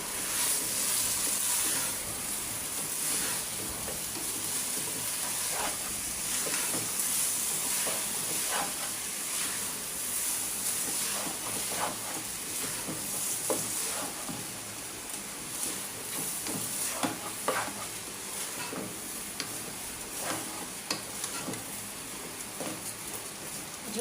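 Rice sizzles in a pan of oil and fried spices for white pulao, with a steady frying hiss and scattered scraping clicks as it is stirred. No one speaks.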